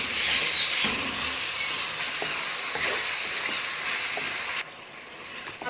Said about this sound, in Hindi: अब इसके अंदर हमने डाल देने हैं टमाटर और सब्ज़ मिर्चें, और टमाटर को हमने गलने तक पका लेना है।